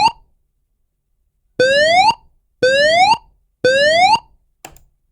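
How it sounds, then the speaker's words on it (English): A building emergency warning system sounds a short tone, then after a pause three loud rising whoop tones of evacuation signal, each about half a second, followed by a faint brief blip. "Here we have the alert tone and the evacuation tone"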